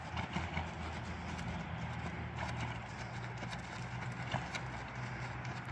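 Hooves of horses running around clip-clop steadily on the ground, close and continuous, over a constant outdoor rumble and with no talk.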